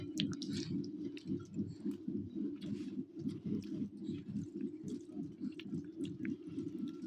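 People eating rice late at night, with steady close chewing and soft wet mouth sounds continuing throughout, faint clinks in the background and no talking.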